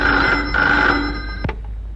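Telephone bell ringing in an indoor Telugu family-drama movie scene, one steady electronic ring for about a second and a half that breaks off abruptly near the end.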